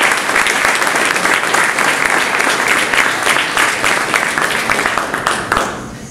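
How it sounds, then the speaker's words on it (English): A seated audience at a technology presentation applauds for Tony, a dense, loud burst of many hands clapping that holds steady for several seconds before tapering off. "Let's give a big round of applause for Tony."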